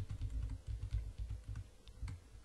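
Keys on a computer keyboard are pressed in a fast, irregular string of close, light clicks and taps while after-effects animation work is being done, with no voices present.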